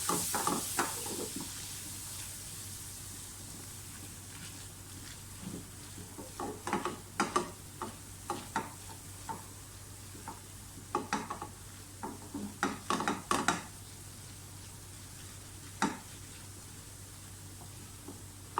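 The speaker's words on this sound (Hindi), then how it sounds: "मुसलसल स्पैचुला या चम्मच जो भी आप यूज़ कर रहे हैं हिलाते जाएं।" A spatula stirs flour into melted butter in a pan for white sauce, giving quiet intermittent scrapes and taps in irregular clusters over a faint sizzling hiss.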